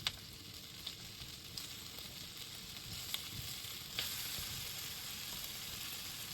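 Meat frying skin side up in a pan, a soft continuous sizzle with a few light clicks and taps of a utensil, near but fairly quiet, no talk.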